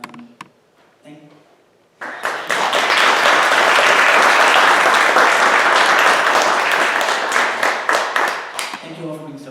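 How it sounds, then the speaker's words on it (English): An audience at a Transgender Day of Remembrance gathering breaks into sustained applause for the speakers, loud dense clapping that starts after a few seconds of talk and then tapers off. "Let's give a round of applause one more time for all of our speakers"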